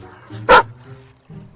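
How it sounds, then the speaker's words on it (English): A dog barks once at its own reflection in water, a single loud, sharp bark standing out over a low background hum, with quieter rustling around it. "Then he barked at the reflection."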